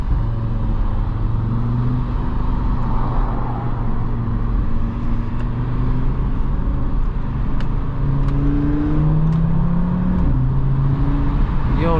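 An Audi RS3 accelerates hard from inside the cabin, its engine droning loud and rising through the gears with steady pitch climbs and brief drops at each shift, continuous for the whole stretch.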